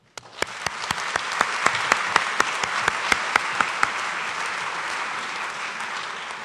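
An audience at an awards ceremony claps loudly in a sustained round of applause, a few sharp close claps standing out before it gradually thins.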